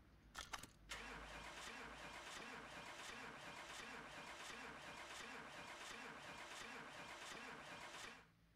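Car engine cranking over and over without catching in Car Mechanic Simulator 2018, a steady rhythmic starter whir that runs for several seconds after a brief clatter and then cuts off.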